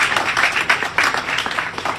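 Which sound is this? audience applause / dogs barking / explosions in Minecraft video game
audience applause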